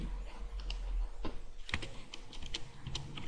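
Computer keyboard keys pressed to paste with Ctrl+V during SQL Server table work, heard as quiet, close clicks and taps at an irregular pace.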